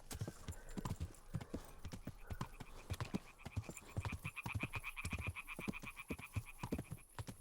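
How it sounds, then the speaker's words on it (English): Loud frog croaks pulse repeatedly over a steady rhythmic clip-clop of horse hooves, with rapid croaking bursts in the second half against a busy background and some faint voices. "Huge frog noise."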